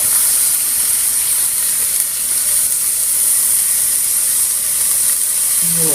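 Organic vegetable broth poured into a hot pot for pot roast with red wine and Worcestershire, giving a loud, steady sizzle and hiss that holds evenly throughout with no talking.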